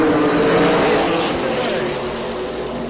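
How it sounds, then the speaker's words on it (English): NASCAR K&N Pro Series West race cars roaring off the green flag start at Tucson Speedway in 2019, a loud, dense, sustained engine drone from the pack under continuous commentary. "officials holding them back, and we have green flag racing"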